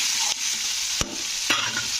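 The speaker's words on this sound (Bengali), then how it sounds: "সবজিগুলো আমার ভাজা ভাজা হয়ে গেছে।" Vegetables for a spinach curry sizzling in a pan with a steady frying hiss, broken by a few sharp scrapes of a spoon stirring them, no voices.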